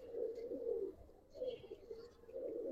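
A female pigeon of the Surma Khaki colour with Kajla markings coos softly in repeated low phrases, with faint chirps and light background noise.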